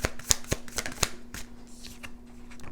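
A deck of tarot cards is shuffled close by, giving a quick series of crisp riffling snaps and soft flutters over a faint steady hum.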